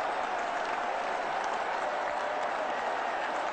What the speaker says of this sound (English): the crowd again has gone mad